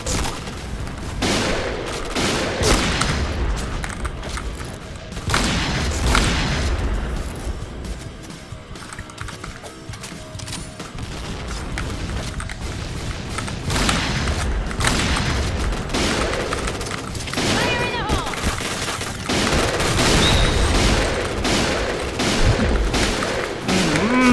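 Repeated gunfire bursts and booms from the Point Blank video game, where an L115A1 sniper rifle is in use, fill a dense, continuous battle soundscape with sharp shots recurring throughout, and faint talk is mixed in.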